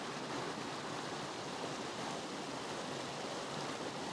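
A river cascade in spring woodland gives off steady, broadband rushing water, an even continuous roar with no pauses and no other sounds, fairly faint overall.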